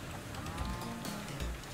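A cartoon cow moos in the video game Moving Out 2, a low drawn-out bovine call over busy game noise, close and fairly loud, no talk.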